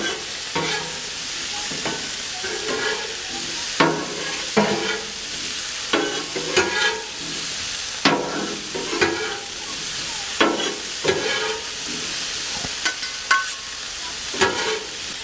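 Bacon fries on a Blackstone griddle, a steady crackling sizzle broken by repeated sharp scraping and stirring clacks of a spatula on the flat steel, close and fairly loud with no talking.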